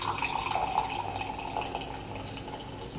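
Liquid poured in a kitchen makes a steady, close trickling and splashing, like running water, at a moderate level that eases off slightly toward the end.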